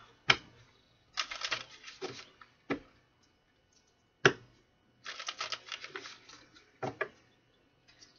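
Tarot cards shuffled by hand at close range, heard as several crisp riffling bursts separated by short pauses, with no talking over them.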